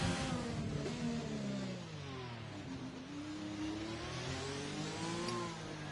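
Race car engines accelerating and revving in an iRacing simulation at Monaco, a loud continuous engine whine rising and falling in pitch as cars pass and speed up, with no talk over it.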